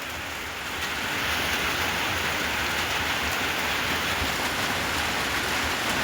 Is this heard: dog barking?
no